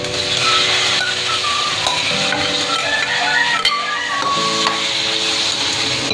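Beef and mushroom sautéing in a pan for beef salpicao, a steady close sizzle with scraping stirs and a few clinks of a utensil against the pan.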